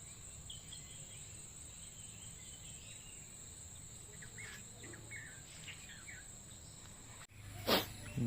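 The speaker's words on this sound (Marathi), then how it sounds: "जो आवाज आहे पक्ष्यांचा सगळा सगळा तो फील फक्त घेत राहायचा" Birds chirp briefly now and then in green village countryside, set against a steady, dense shrill of insects that fills the whole stretch, with a sharper burst of chirping near the end.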